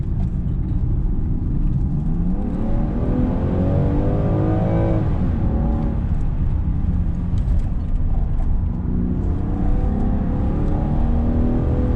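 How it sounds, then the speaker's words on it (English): A supercharged Land Rover Defender 90 on the road, its engine revving up and down through the gears, with loud, steady rising and falling engine tones heard from inside the cabin. "In the high revs, you can just hear a bit of the supercharger whine"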